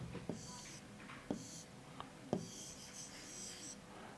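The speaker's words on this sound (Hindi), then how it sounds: "तो हम लालची लिखते हैं" A pen writes by hand on paper in a school notebook, with soft scratchy strokes and a few firmer taps as letters are formed. It is quiet and close, with faint room noise.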